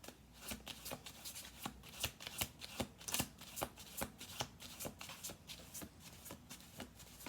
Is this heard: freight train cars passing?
no